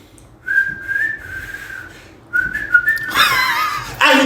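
A man whistles a steady high note in two separate phrases, clear and close, followed by a louder, noisier burst that may be a voice.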